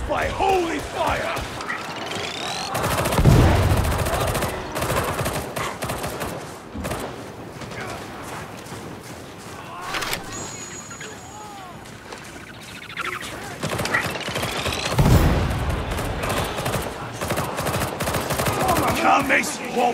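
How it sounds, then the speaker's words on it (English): Gunfire in Warhammer 40,000: Darktide, repeated bursts of shots and rapid volleys amid chaotic combat noise, with shouted in-game voices over the top. "They are shooting at us!"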